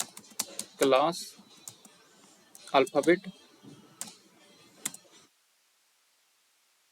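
Computer keyboard keys clatter in quick, uneven bursts as Java code is typed, close and crisp, while a person talks between and over the clicking before it stops.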